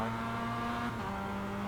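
Mazda MX-5 race car engine in a racing simulator on the Okayama circuit, a loud steady droning note held side by side with another car, pitch dipping slightly midway through, with no voices.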